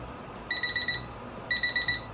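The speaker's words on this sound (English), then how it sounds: "the 5-minute timer's going off" A five-minute cooking timer goes off during a steak cook, giving two bright electronic beep bursts of about four quick beeps each, with a short gap between them. It sounds moderately near over a quiet background.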